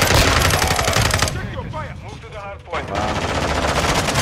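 Rapid automatic gunfire in Modern Warfare 2 on the Shipment map, loud bursts of shots that pause briefly while someone speaks, then resume.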